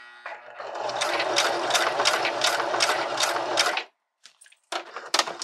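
A sewing machine stitches a bra hook and eye, a close, rapid rhythmic whirring run of nearly four seconds that stops, followed by a few short clicks and bursts of handling.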